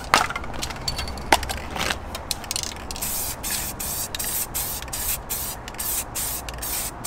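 Aerosol spray paint hisses onto car wheels outdoors in the wind in a run of short, repeated bursts, with a few faint knocks near the start.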